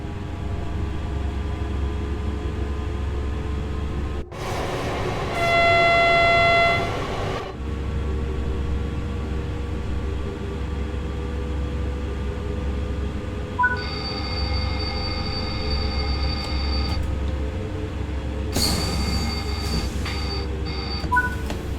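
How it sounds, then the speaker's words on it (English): Train in Train Sim World on the Dutch Zwolle–Groningen line, heard as a steady low rumble with a loud horn-like blast early on, then sustained tonal warning beeps and a later tone burst. "Accelerate the train now and exceed the speed limit."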